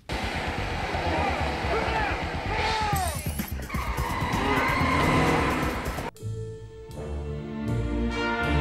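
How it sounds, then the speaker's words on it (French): A BMW 750iL skids with tyre squeal during a car chase in the James Bond film Tomorrow Never Dies, loud and close amid a dense mix of engine roar and crashes, with a sharper shift of impacts near the end. "Côté voiture, on reste sur BMW bien sûr, encore ici avec la 750 IL, véritable arsenal sur roue"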